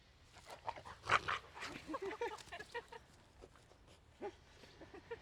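Puppies play and romp together, giving scattered yips, whines and small barks over soft scuffling, fairly faint and close, with occasional human talk mixed in.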